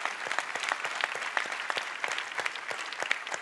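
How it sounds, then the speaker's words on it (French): An audience at a Deep Tech event applauds the award winners with short, lively clapping at close range, scattered hand claps forming a busy burst. "Vous pouvez les applaudir, c'est des lauréats."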